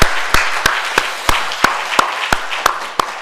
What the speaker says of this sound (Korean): 우리가 응원하면서 한번 박수 한번 보내겠습니다.